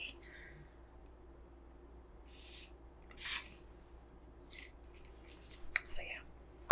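Brief soft hisses of makeup setting spray misting from a bottle, two short bursts standing out against a quiet background, in a whispered setting.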